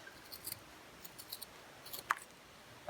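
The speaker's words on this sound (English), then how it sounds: "Now I'll take the scissors and just trim off that excess." A few quiet snips of scissors trimming, soft irregular cuts close by in an otherwise quiet room.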